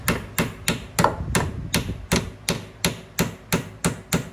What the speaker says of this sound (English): Then we'll take our hammer and we'll just gently